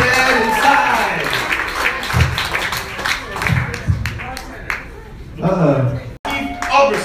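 A comedy show audience on Broadway claps and applauds in bursts, with sharp hand claps rising and falling as a host's voice talks loudly over the crowd, briefly dropping out near the end.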